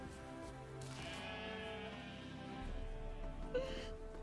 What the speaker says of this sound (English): Look at the sheep. Look at the sheep.